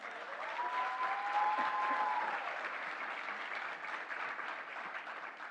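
Steady applause from an audience at a school awards ceremony for a primary school teacher, a dense wash of clapping that holds evenly throughout, with a faint tonal whistle near the start.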